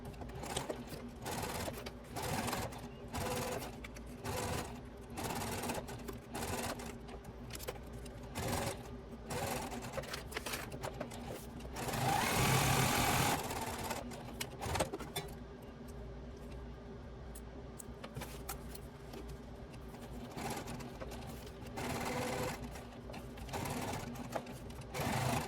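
Sewing machine with a size 18 needle and 4.5 stitch length, running Tech 70 thread through wallet card slot material, in a rapid mechanical chatter that comes in repeated short runs with brief pauses between.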